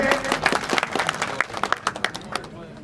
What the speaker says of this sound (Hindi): जोरदार तालियां आपके लिए।